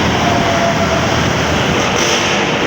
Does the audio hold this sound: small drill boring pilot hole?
no